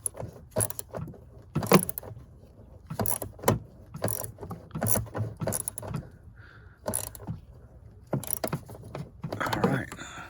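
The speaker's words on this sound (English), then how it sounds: "use a 5/16 on a 1/4" drive extension, 1/4" ratchet, and tighten that down" Quick clicking bursts of a 1/4-inch ratchet on a 5/16 socket and extension tightening a bolt under a Dodge Grand Caravan with a 3.6L engine, close and sharp, repeated in short rhythmic runs with a few metallic clanks.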